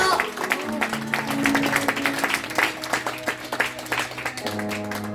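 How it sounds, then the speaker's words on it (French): Congregation applauding at a memorial tribute service for a pastor, a steady round of clapping mixed with music playing underneath throughout. "quelqu'un peut-il applaudir?"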